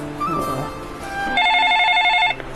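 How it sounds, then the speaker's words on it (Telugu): A telephone rings indoors in a home kitchen, a repeated electronic bell-like trill in steady bursts lasting over a second, sounding after a brief stretch of background speech. "ఎవరు ఫోన్ చేస్తారు ఈ టైంలో?"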